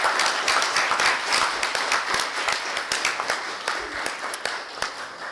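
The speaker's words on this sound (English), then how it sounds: "could you all give them just a round of applause?" Applause from an audience at a school board meeting, a crowd clapping steadily with distinct individual claps standing out, moderately loud and gradually thinning toward the end.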